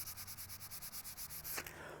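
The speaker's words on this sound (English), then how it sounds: "I just take it and sand all these edges and even the top and bottom." Repeated back-and-forth sanding strokes on the wooden edges of a cigar box guitar, a steady rhythmic scratchy rasp close up, ending in a brief heavier swipe.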